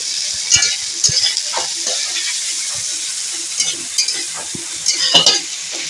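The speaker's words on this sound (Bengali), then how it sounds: "অল্প রসুন তিন চারটি রসুনকে আমি দিয়ে দিলাম এটা আমি লাল লাল করে ভাজতে থাকবো" Sliced onion and a few garlic cloves frying in a pan, an even loud sizzle throughout with occasional sharp spatula knocks and stirring scrapes, nobody speaking.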